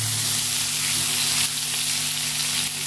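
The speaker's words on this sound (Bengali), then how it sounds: "ভালো করে মাছটা ভালো করে লাল লাল করে ভেজে নেবো" Fish coated in a chilli and cumin spice paste frying in hot oil, giving a loud, dense, continuous sizzle close up with no voices over it.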